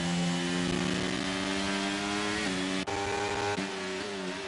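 A simulated race car engine in an esports Grand Prix game holds a steady, buzzy, harmonic-rich whine with small shifts in pitch and a brief dip near the end. It sounds close and constant.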